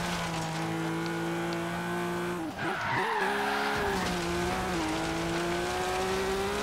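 Race car tires skidding in a video game race, a sustained squeal over a steady engine drone, briefly dipping and shifting pitch midway, then resuming, with no talk.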